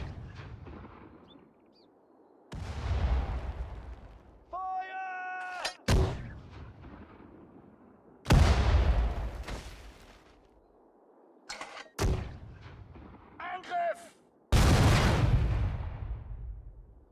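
Artillery guns in the World War I strategy game Sudden Strike 4, set at the Battle of Ypres, firing loud booming shots at irregular intervals with rumbling decays, alongside engine and mechanical clanks and brief tonal radio chirps.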